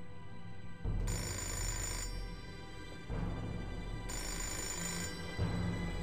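A telephone rings in the video game Fahrenheit, electronic bell-like bursts alternating with pauses in a repeating on-off pattern over a low background hum.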